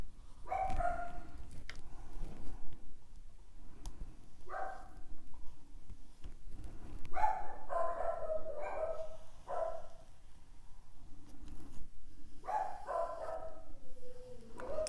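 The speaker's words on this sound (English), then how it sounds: "If you want to have an alarm in your house, buy a dog." Several bursts of dog barking inside a house, sharp repeated barks in clusters with pauses between, moderately near and fairly loud.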